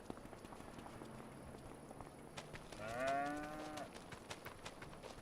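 Cattle lowing from a cow barn in the farming game Farm Sim 25, a single drawn-out moo rising and falling over quiet ambient farm noise, fairly faint and heard alone.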